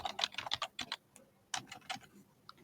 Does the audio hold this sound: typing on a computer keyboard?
yes